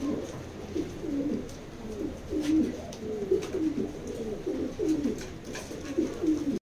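A purebred Banlun pigeon coos in repeated low, throaty bursts at close range, one rolling call after another over a quiet background.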